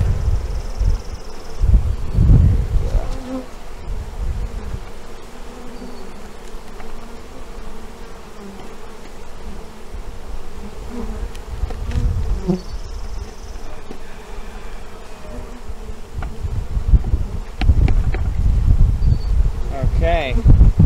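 Honey bees drone continuously around a hive, a close, steady buzzing layered with rustling and handling bumps, with occasional nearer passes.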